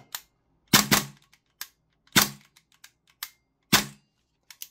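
An MWS airsoft rifle fires several short bursts and single sharp pops on full auto, each crack close and loud, separated by brief pauses with no talking.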